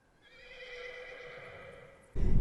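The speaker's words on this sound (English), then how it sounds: "there's this pasture right here, and one of the horses, this beautiful white horse." A white horse in a roadside pasture gives a single clear, drawn-out whinny lasting about two seconds, loud and fairly close, before a sudden burst of low rumbling noise cuts in at the end.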